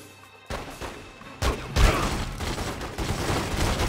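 Gunfire in the video game Godfather II: bursts of rapid shots and a heavy volley erupt, loud and dense, continuing as a sustained fusillade.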